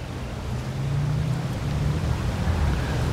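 A boat on the New River passes with a steady, low engine rumble and broad wash of water and wind noise, fairly loud and continuous throughout.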